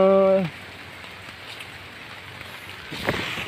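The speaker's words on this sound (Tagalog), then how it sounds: "Parang lumalakas yung ulan." Steady rain patters on a surface on a banana farm during a storm, a soft continuous hiss after a brief tonal sound at the start, with a faint knock near the end.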